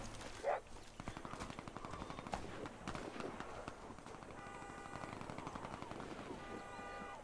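Gunfire in the Warface online shooter: faint, steady rattling bursts of automatic weapons run through the whole stretch under game ambience, with a brief louder tone early on.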